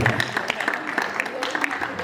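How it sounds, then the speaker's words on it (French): Audience clapping at an African festival in Château-Gontier, a steady patter of many hands at moderate loudness with voices talking in the background. "On peut l'applaudir"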